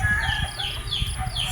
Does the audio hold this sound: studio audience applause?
no